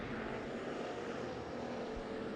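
A hobby stock race car engine at a dirt speedway running rough behind the pace car, a continuous broad droning roar without clear rhythm, loud and close, with no talk.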